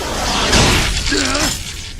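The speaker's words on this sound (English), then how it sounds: "One more strike and this window will shatter." A punch lands on a spaceship's forward window in Xenosaga Episode 1, a sharp cracking, glassy impact with rattling over a continuous mechanical hum.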